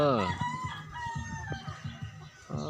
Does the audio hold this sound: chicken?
yes